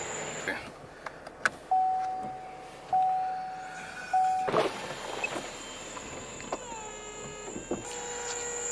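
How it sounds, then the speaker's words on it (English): A Camaro convertible's electric soft top folding down, with repeated whining motor pulls and clicks of the mechanism close by, followed by a thud and a chime, with bits of talking. "There's the roof. Folding top motion complete."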